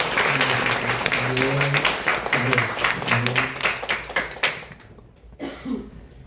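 A church congregation claps for newly named officers, a dense round of applause under a voice that thins into a few scattered claps and fades out.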